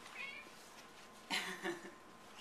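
A house cat meows near the microphone, a couple of short, fairly soft mews heard alone in a quiet indoor room.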